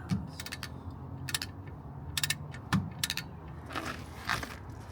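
A ratchet torques bolts during a clutch replacement on a TDI-powered Toyota 4Runner, sharp bursts of close metallic clicking in short runs with pauses between them, and no voices.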